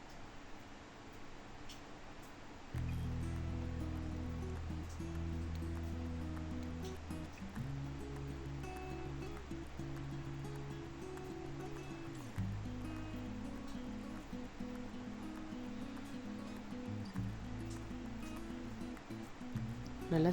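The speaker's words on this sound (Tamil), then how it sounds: "எண்ணெய் நல்லா சூடானதுக்கப்புறம் ஆல்ரெடி நம்ம ஊற வச்சுருந்தோம் இல்லையா, அந்த பீஃபை 1 பை 1" Marinated beef pieces frying in hot oil, a soft, steady sizzling hiss that runs throughout at low volume beneath background music.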